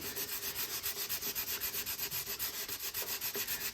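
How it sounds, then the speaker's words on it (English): Steady back-and-forth rubbing of 800 grit sandpaper sanding scratches from an air intake tube on a 1991 Honda CRX Si, rhythmic strokes repeating evenly at a quick pace, quiet and close with no talking. "I have some 800 grit sandpaper, and I'm actually sanding out these scratches"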